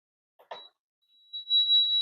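Digital timer on an HTVRont H10 heat press giving a thin electronic beep, preceded by a couple of soft clicks and ending in a sustained tone, quiet and alone.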